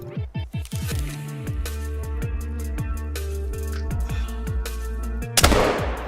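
A rifle fires a single loud shot at a moose in the hunting video game theHunter Call of the Wild, a sudden sharp blast near the end that follows several seconds of layered tonal game sounds.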